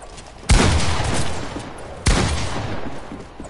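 Two sharp, heavy gunshots in a video game, about one and a half seconds apart, each with a booming crack and a long fading tail, loud and with no voices over them.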